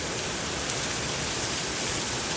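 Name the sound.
heavy rain pouring in Georgia, America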